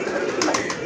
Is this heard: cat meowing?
no